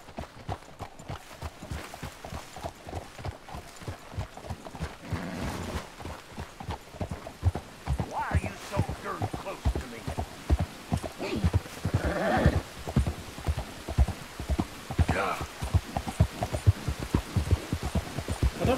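Horse hooves clip-clopping in Red Dead Redemption 2, in a steady walking rhythm, close by, continuing throughout with occasional brief louder accents.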